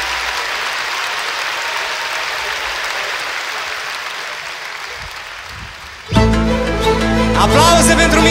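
A concert audience applauds a performer during an orchestra show, a dense sustained clapping for about six seconds before a band bursts in loudly with music.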